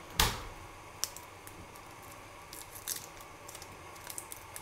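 Garlic cut with a knife on a board while cooking a sweet potato hachis parmentier: one sharp crunch at the start, then a few faint, scattered clicks and taps, with no talking.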